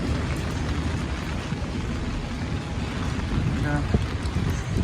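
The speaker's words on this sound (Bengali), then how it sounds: "প্রচুর বৃষ্টি হইতেছে" Heavy rain pours steadily outdoors, a dense continuous broadband wash with faint rumbles and a few brief knocks, while distant voices murmur underneath.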